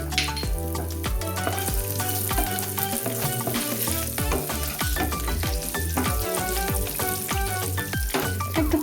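Chopped coconut and peanuts fry in hot oil with a loud, continuous crackling sizzle, punctuated by frequent sharp clicks and scrapes of stirring throughout, with no talking.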